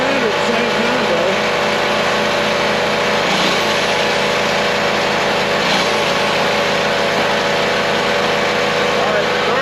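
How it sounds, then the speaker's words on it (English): An air compressor runs off a Harbor Freight Predator 4375-watt generator, a loud steady mechanical drone with two brief load dips, while people talk nearby. "next thing, air compressor"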